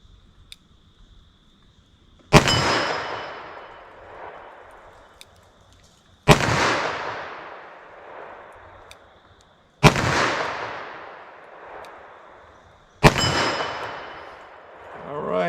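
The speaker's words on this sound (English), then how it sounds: "let's hit our gong, our 10-inch gong at 25 yards and see what kind of ump these have on my 10-inch steel gong" .357 Magnum revolver shots, fired double action from 25 yards, hit a 10-inch steel gong. Four loud, separate cracks arrive a few seconds apart, each followed by a long, fading metallic ring in an open outdoor setting.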